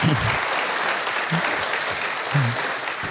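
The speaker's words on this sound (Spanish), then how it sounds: "Un gran aplauso para los padres que están entre nosotros." Audience applause for the fathers present at a church talk on fatherhood, a dense steady wash of many hands clapping at moderate level, with a few faint low voices breaking through.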